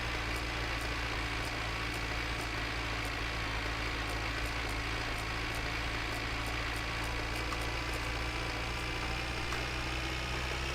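A car engine idling in the video game My Winter Car, a constant low, even drone with faint regular ticking on top, heard alone and unchanged from start to finish.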